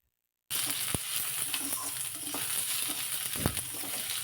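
Chopped onions sizzling as they fry in a pan, a steady close hiss that begins abruptly, with occasional soft knocks of stirring.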